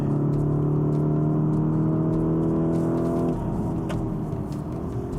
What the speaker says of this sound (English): The upshifts are brilliant